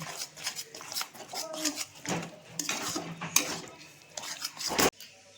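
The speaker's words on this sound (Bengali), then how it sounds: "ভালো করে আমি নেড়ে নেড়ে কষিয়ে নেব।" A utensil scrapes and knocks against a pan as mashed spinach is stirred and fried, producing uneven clattering strokes at close range with a soft sizzle underneath.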